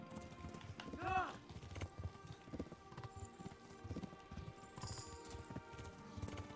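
A horse gallops in the video game Kingdom Come Deliverance, its hooves beating a steady rhythmic clip-clop over a soft game background with faint voice-like sounds.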